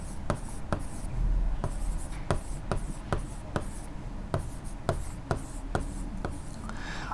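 A pen scratches across paper during a Class 12 accounting lesson, with close, irregular strokes and sharp taps spread through several seconds, with no talk.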